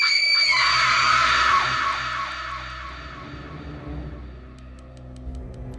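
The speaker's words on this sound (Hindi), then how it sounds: "चीखने की आवाज़ें बहुत भयंकर थी।" A woman's loud, piercing scream rises sharply and holds, then fades into a lower, rumbling background.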